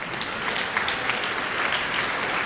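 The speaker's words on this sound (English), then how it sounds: "Could we give them a round of applause," Applause from a school assembly audience, a steady, even wash of many hands clapping at moderate level, uninterrupted throughout.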